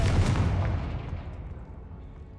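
A Confringo fire spell is cast in Hogwarts Legacy, a loud booming blast that bursts at once and then fades through a long rumbling decay, with no voices.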